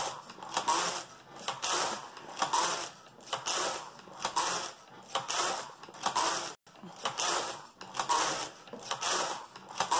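A Passap knitting machine carriage knits stockinette in repeated passes, each a loud rattling, clacking sweep of about a second with short gaps between, close and steady and with no talk.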